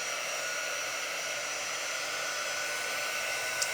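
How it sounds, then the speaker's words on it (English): Handheld heat drying tool blowing over chalk paste on a crafting surface, giving a steady loud whooshing fan hiss that runs unbroken throughout, with no talking. "I'm going to go ahead and hit this with my quick dry tool just to get it dry"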